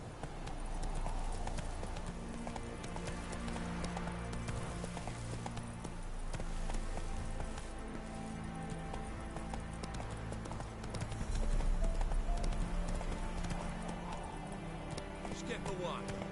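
Roach the horse galloping in The Witcher, rapid continuous hoofbeats close and loud throughout, with voices talking over them and game music underneath.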